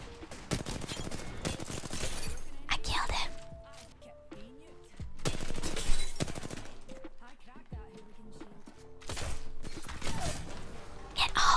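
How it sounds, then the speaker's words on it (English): Repeated bursts of rapid gunfire ring out in the battle-royale game Apex Legends, coming in loud waves between quieter stretches of mechanical clanks and ambience, with a soft voice talking at times. "I'm being shot at. Who is that guy shooting at?"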